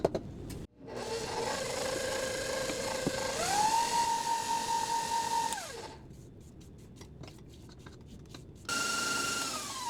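An electric mixer whisks low-carb Irish cream cupcake batter, a steady mid-pitched whir that rises in pitch as it speeds up, then cuts off, followed by a few clattering knocks before the motor starts again.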